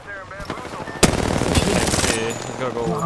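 Rapid automatic gunfire in a Predecessor-style online shooter match, a sharp burst starting loud and sustained as dense rattling fire with other battle sounds, while a player talks over it.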